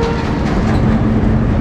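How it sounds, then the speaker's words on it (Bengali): A long-distance train passes near the railway crossing at Ahmedpur, a loud, dense, continuous rumble heard close by with no voices over it. "পাশ দিয়ে কিন্তু দূরপাল্লা ট্রেন যাচ্ছে আহমেদপুর"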